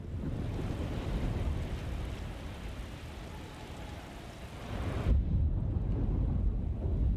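A storm in the game Alone in the Dark (2024), with a dense, continuous roar of surf and wind, and deep thunder-like rumbling that swells louder near the end, with no voices.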